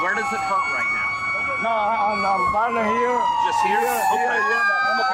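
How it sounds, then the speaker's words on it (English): A fire truck siren wails in a long, sweeping rise and fall, loud and continuous, while people nearby talk over it at an emergency scene. "Yeah, that's another fire truck. I know that wail anywhere."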